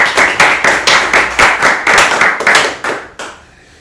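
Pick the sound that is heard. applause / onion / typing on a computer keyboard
applause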